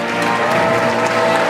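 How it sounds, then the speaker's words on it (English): Loud, dense applause from a theatre audience right after a performance of A Wrinkle in Time, a continuous close wash of clapping with no pauses. "Let's give another round of applause."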